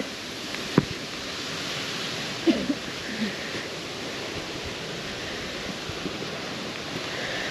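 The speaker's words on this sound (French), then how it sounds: "C'est la cascade Viking" The Viking waterfall in Spain roars as a steady, hissing rush of falling water close by. A few faint knocks and a brief murmur rise above it for a moment near the start.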